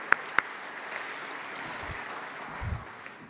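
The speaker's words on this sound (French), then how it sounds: "Je propose qu'on l'applaudisse aussi." Applause from an audience at a university gathering: steady, moderately distant clapping that fills the whole stretch, with a couple of sharper claps near the start and no voices.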